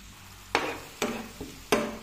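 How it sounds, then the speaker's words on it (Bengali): Ground coriander, cumin, chilli and turmeric with a little water being sautéed into a spice paste in a pan for kashki macher chorchori; four sharp scraping stirs cut through a quiet background sizzle, no talk. "মশলা ভালো করে কষিয়ে নিচ্ছি"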